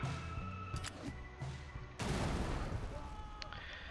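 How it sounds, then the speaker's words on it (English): Grenade explosion in the Wasteland 3 video game, a broad loud blast halfway through that follows several sharper gunshot-like cracks and then leaves a rumbling tail over quieter ambient game sound. "we're gonna start off throwing a grenade over here"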